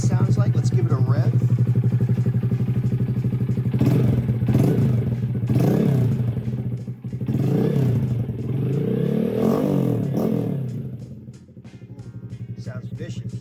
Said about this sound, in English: But that's what it sounds like. Let's give it a rev.